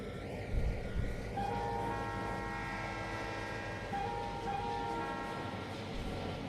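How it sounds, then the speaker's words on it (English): A tourist passenger train in the Trainz simulation game runs with a steady mechanical rumble, overlaid by a sustained horn blast and long tonal whistle lines, all at a moderate even level without speech. "We've got our train."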